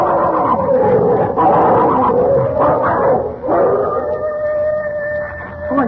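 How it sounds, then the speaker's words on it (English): Dogs snarling, howling and barking in a tangled fight for a radio drama, a loud continuous brawl that eases into steadier whining howls near the end. "Oh, it's them dogs. They're fighting again."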